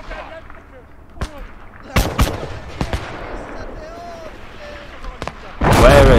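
Gunfire crackles across a World War II battlefield in the strategy game Gates of Hell, set in Finland: scattered sharp shots ring out near and far, then a heavy burst of fire comes at the end.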